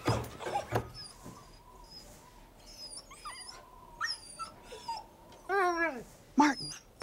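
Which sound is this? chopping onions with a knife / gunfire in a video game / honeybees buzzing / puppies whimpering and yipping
puppies whimpering and yipping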